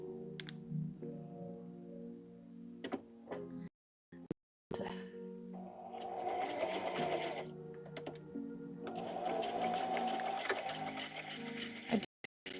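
Sewing machine running a zigzag stitch down the edge of blue variegated fabric on an old book, quiet mechanical whirring in bursts with short pauses and clicks between runs.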